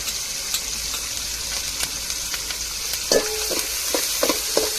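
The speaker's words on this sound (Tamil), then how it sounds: "பச்சைவாடை மாறத்தடிக்கும் வதக்கி விட்டுக்கிடுவோம்" Tomato, onion, ginger and garlic sauté in a pan, a constant close sizzle joined by scraping spatula strokes and several sharp metallic taps in the second half.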